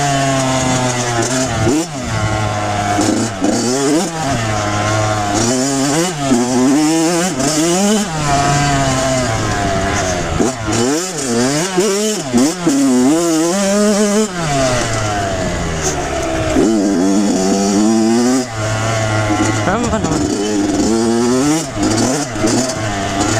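A dirt bike engine revs steadily while riding, loud and close throughout, its pitch climbing and dropping as the throttle opens and the clutch is worked.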